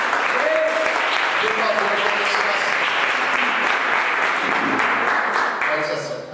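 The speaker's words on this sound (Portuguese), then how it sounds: "Vamos dar uma salva de palmas ao Senhor" A church congregation applauds during a service, steady sustained clapping filling the room with a voice speaking over it, fading slightly at the close.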